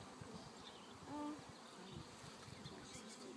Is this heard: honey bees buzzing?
yes